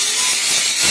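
Round metal poles are ground with a power tool, giving a loud, close, harsh rasping hiss that runs steadily through the moment.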